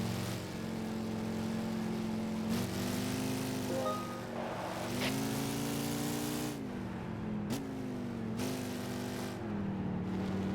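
Race car engines in the video game Gran Turismo 5 drone steadily through a lap, engine pitch rising and dropping with gear changes, loud and continuous with no talk over it.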